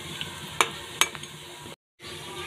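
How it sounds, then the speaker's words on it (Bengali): Fish fries in hot oil with a soft, steady sizzle, close by. Two sharp clinks of a utensil against the pan cut through it, and the sound briefly cuts out before the frying resumes. "মাছগুলো ভাজা কমপ্লিট, মাছগুলো এবার তুলে নিচ্ছি"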